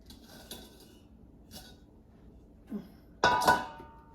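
A plastic knife is run around the edges of a cooled pan holding a pineapple, coconut and pecan cake, giving soft scraping and a few light clinks close by, with a louder scrape near the end and no talk.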